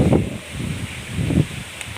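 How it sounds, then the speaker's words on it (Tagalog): Gusts of wind buffet and rumble in soft waves on a farm, with a steady airy hiss underneath and no voices. "Mahangin po ngayon dito, medyo malamig ang panahon."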